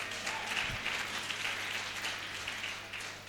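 A church congregation applauds, a steady, moderately distant patter of many hands clapping together at an even level.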